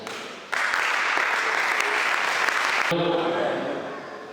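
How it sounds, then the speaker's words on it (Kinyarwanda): Audience at a Bible-study graduation ceremony breaks into loud, dense clapping that starts abruptly, holds steady for a couple of seconds, then fades as other sounds take over. "tubakomera amashyi menshi cyane"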